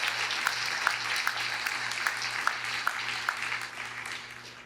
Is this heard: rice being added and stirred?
no